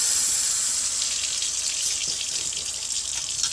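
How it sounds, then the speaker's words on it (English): Tap water runs steadily into a kitchen sink, a continuous close hiss and splash with no voices. "Let me turn this water off here for a second."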